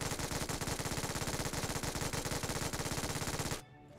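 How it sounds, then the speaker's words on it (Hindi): An MG3 light machine gun in the mobile game BGMI fires at its fastest rate, a loud, unbroken burst of rapid, evenly spaced shots that cuts off abruptly near the end. "हम लोग देखते हैं MG3 लाइट की फायरिंग स्पीड, जिसमें भाई हम लोग 75 बुलेट्स फायर करेंगे 990 के भाई फायरिंग स्पीड पे"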